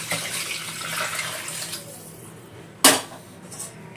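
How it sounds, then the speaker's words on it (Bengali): Hot water is poured into a wok of spiced mutton and potato curry in a home kitchen, a steady splashing pour for about two seconds that fades, followed by a single sharp clatter of cookware. "কড়াইয়ের মধ্যে পরিমাণ গরম জল দিয়ে দিলাম।"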